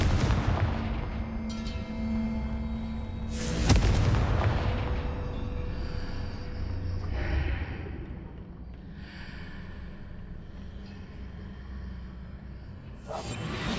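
Confringo spell blast in the Hogwarts Legacy video game, a loud booming explosion near the start followed by a rumbling tail and a few smaller bursts and whooshes over a steady game backdrop.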